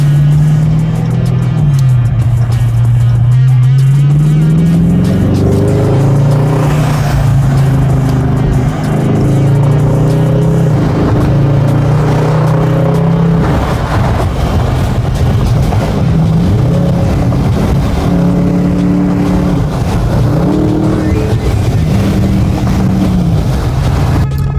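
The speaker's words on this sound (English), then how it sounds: "Now let's go cut these mufflers off and show you what it's going to sound like." A car with its mid mufflers cut off revs hard and loud, its raw exhaust note climbing and falling through repeated throttle blips, then a rougher stretch of revving, all close up with no talking.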